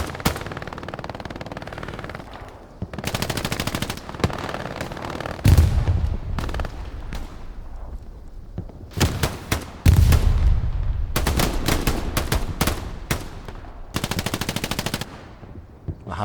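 Rapid automatic gunfire and single shots from a Hell Let Loose battle, bursts of machine-gun fire alternating with heavier booming impacts, loud and close, with distant exchanges between the bursts.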